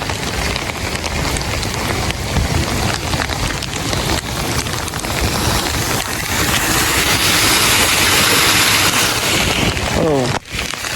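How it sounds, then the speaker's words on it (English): Heavy rain pours down hard during a flooding downpour, a loud, continuous roar of water on surfaces with splashing close by; a faint rumble sits underneath and a brief voice-like sound appears near the end. "puddles everywhere, raining everywhere"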